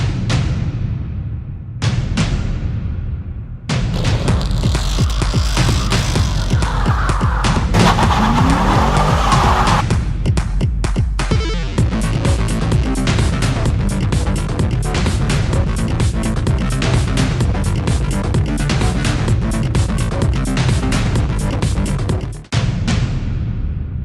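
A 2011 Chevrolet Camaro SS driven hard, loud engine roar and tire skidding with squealing bursts, near and continuous with brief gaps and thumps, no talk.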